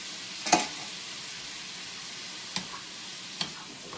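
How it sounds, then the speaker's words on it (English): Rice being sauteed and stirred in a pan, giving a soft, steady sizzle with a few sharp scraping clicks from the stirring, heard alone at close range. "I'm just sauteing."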